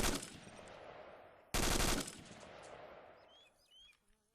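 An automatic rifle fires from a crouched, unsupported position: a loud burst of rapid shots, then a second sharp burst around midway, each followed by long echoing decay over open ground, with faint birdsong at the end.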